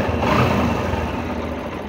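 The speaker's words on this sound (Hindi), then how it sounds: "अभी इसको स्टार्ट करके देखते हैं बाइक को" A Yamaha YBR motorcycle, fitted with a newly installed battery, runs close by with a dense, even engine roar that eases slightly after an initial surge.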